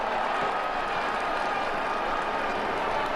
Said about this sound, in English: Much cheering.